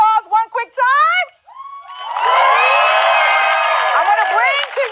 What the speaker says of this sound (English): Let's give a round of applause one quick time.